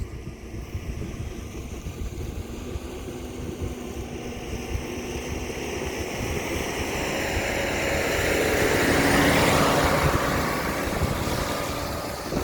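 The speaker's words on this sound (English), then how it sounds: "Just going to wait for this tractor to go past." A tractor passes along a country road through agricultural land, its low engine rumble building gradually to a peak as it draws near and then easing slightly, heard outdoors with no talking.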